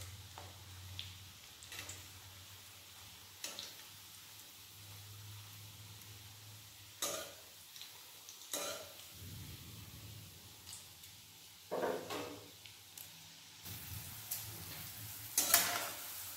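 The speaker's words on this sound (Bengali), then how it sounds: "গ্যাসটা আমি আঁচটা কমের মধ্যে রেখে ভালোভাবে ভেজে নেব" Fish roe pakoras fry gently in oil over low heat, a faint steady sizzle interrupted now and then by light clicks and clatters of a utensil against the pan.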